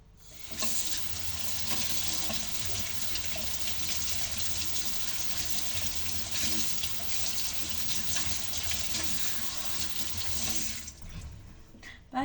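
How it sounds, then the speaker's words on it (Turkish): Hands washed under a running kitchen tap while making a diet dessert, a steady loud gush of water splashing into the sink for about eleven seconds before it stops. "ben şimdi bir ellerimi yıkayayım ve devam edeceğim"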